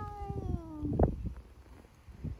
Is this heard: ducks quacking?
no